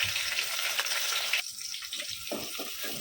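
Chopped onion going into hot oil already sizzling with whole spices and peppercorns for a moringa drumstick chicken curry. A bright, steady frying hiss runs first, then it drops and comes back in softer, broken sputters.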